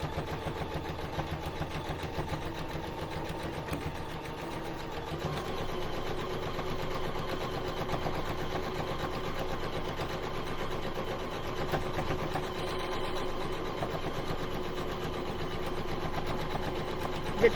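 A sewing machine runs steadily while edge stitching all the way around a piece of printed fabric, a continuous fast mechanical whir at moderate level with no pauses or voices.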